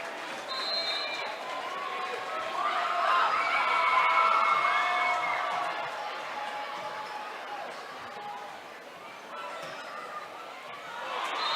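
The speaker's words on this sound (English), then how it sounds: "Lumberjack fans come to their feet, cheering them on." Lumberjack volleyball fans at a high school Pink Ribbon match rise to their feet and cheer at set point, a broad crowd roar swelling and easing beneath a commentator talking over it.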